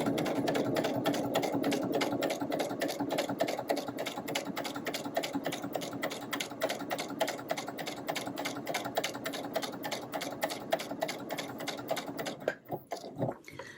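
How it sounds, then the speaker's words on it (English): A sewing machine stitches a kite appliqué onto a background fabric with a fast, steady run of needle clicks that lasts about twelve seconds. It slows and stops near the end. "Now I'm going to sew this onto the background with my sewing machine."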